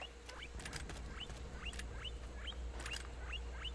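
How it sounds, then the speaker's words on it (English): Guinea pig in Metal Gear Solid 4 giving a run of small, bright rising squeaks, about eight evenly spaced chirps over a low steady hum of game ambience. "Look at the little guinea pig. They make cute squeaky noises."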